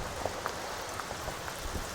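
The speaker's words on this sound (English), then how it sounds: "That's not rain, that's paper planes." Paper planes falling like rain in a Halloween horror video game, a steady soft patter of many light taps over a constant hiss, even and continuous throughout.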